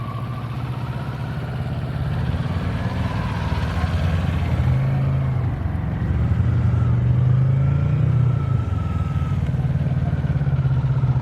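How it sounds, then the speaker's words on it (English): A Kawasaki Ninja 400 motorcycle being ridden gives a steady, close mid-pitched engine drone that rises and falls slightly in pitch as the throttle shifts, with no talking. "Alright, so Nico is the proud owner of this Ninja 400 and he is allowing me to ride it"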